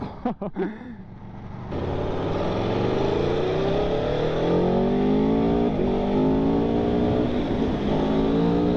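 A 2021 Aprilia Tuono V4 1100 Factory motorcycle's V4 engine blips a few times, then pulls in a long loud climbing rev, its buzzing howl rising steadily in pitch close by.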